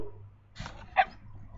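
A dog at its doghouse lets out two brief, soft whimpering cries, close and fairly quiet.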